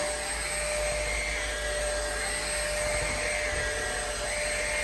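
A Numatic Henry Quick cordless stick vacuum runs on low mode over carpet, giving a steady, continuous whine and motor hum with an even level throughout and no voices.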